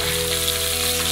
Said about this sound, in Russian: О, у нас рыбка немножко поджарилась.